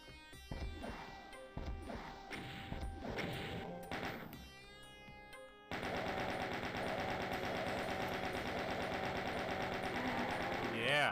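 Rapid, dense bursts of plasma gun fire in Doom's Knee Deep in the Dead episode, a loud continuous electronic rattle taking over midway after scattered game effects and a voice.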